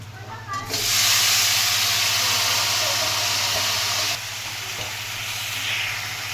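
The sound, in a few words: sizzling in hot mustard oil while cooking soybean curry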